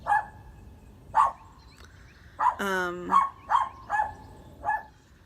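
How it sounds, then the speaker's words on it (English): Dog barking at home, a series of sharp barks spaced about a second apart with a longer whining yelp in the middle, while someone talks. "putting my dogs back up so she has nothing to bark at"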